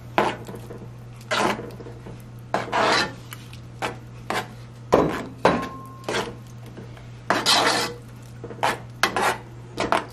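A spoon scrapes and rasps through arroz con dulce in a pot as raisins are stirred in, giving repeated short strokes with pauses between them over a faint steady hum.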